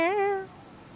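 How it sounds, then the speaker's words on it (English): A cat gives a single short meow, clear and close, with a slight rise in pitch before it fades out after about half a second in a quiet room. "Meow."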